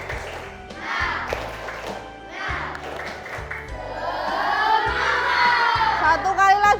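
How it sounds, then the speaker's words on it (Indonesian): Primary school pupils in a classroom performing a rhythmic clapping chant, tapping out a patterned beat while their voices rise together in sing-song, getting louder and livelier toward the end. "Supaya lebih semangat, tepuk semangat dulu yuk"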